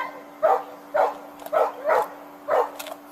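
A dog gives a run of short yips and whimpering barks, five or six evenly spaced bursts, close and fairly loud over a steady background hum.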